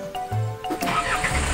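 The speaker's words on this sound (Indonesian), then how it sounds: "mantap, mesinnya nyala" A video game truck engine, an NMR71 in a rural grain-hauling setting, cranks briefly and then catches into a steady idle rumble that rises as it fires up.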